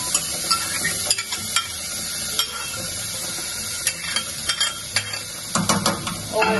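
Tomato sauce goes into flour frying in a pan for vegetarian enchiladas, and a spoon stirs it through, a steady sizzle with repeated scraping and clinking strokes close by.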